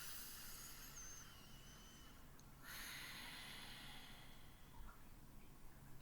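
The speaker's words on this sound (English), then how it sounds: "I'm going to take a deep breath." A single slow, deep breath, a soft airy inhale and exhale that is near and faint over a quiet hiss of room noise.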